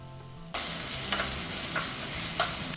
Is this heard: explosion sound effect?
no